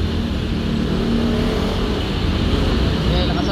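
Car engine idling steadily after a valve seal replacement on a smoking, oil-burning engine, a continuous low rumble close by with a slight rise in revs.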